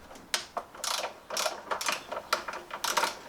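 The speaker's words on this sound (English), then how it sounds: "you can use an 8mm socket on an extension bar and undo these here" An 8mm socket on an extension bar undoing bolts in a Mustang engine bay, heard as a close, rapid run of ratchet clicks in short bursts with brief pauses between.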